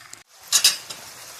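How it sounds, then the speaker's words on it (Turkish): Onions and garlic sautéing in a pan, heard as a brief pair of close scraping stir strokes with a faint sizzle, then quiet. "Soğanlarımız ve sarımsağımız yumuşayana kadar pişireceğiz."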